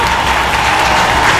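Loud, dense applause from a mushaira audience in Patna honouring an elderly poet, a continuous roar of many hands clapping close up and evenly sustained throughout.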